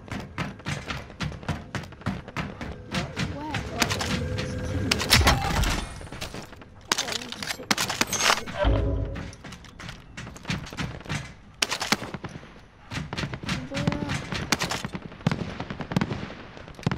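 Rapid gunfire from a Warzone bot lobby match, with dense bursts and heavy thumping shots rattling continuously across the whole stretch, loud and close.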